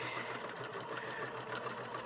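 Sewing machine stitching a fabric basket, a steady fast mechanical whir with rapid needle ticking, heard alone at low volume for a couple of seconds.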